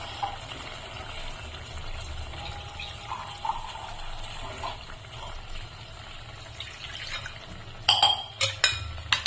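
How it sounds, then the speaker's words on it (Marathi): Water pours steadily into a cooking pan of prawn masala with a continuous splashing hiss, followed near the end by a few sharp clinks of utensils. "मी थोडंसं पाणी ऍड करते की जेणेकरून थोडंसं कोळंबी शिजायला पण लागेल."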